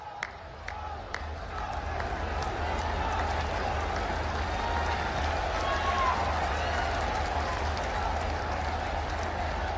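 Large crowd at an Uttar Pradesh public meeting bursts into sustained applause after a few scattered early claps, a loud, continuous roar of many hands with some crowd noise mixed in.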